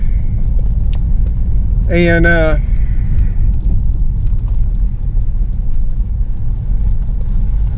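Recorded from inside a truck driving over a rough road near a riverside and crossing a manhole cover, with a loud, steady low rumble throughout and a brief tonal squeal partway through.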